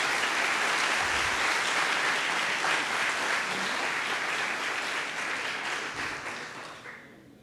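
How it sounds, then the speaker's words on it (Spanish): Audience applause at a neurology congress: sustained, dense clapping from a large crowd that holds steady and then fades away at the end. "Un aplauso para el profesor Rodrigo Solís, por favor."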